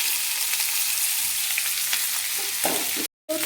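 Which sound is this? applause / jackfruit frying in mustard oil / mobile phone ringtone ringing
jackfruit frying in mustard oil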